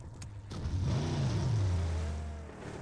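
A car engine revs up as the vehicle is brought around, its pitch rising and falling over a couple of seconds close by, then settling to a lower idle hum.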